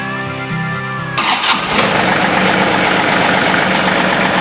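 A John Deere 2038R compact tractor engine cranks briefly with the starter, catches, and settles into a steady, close idle.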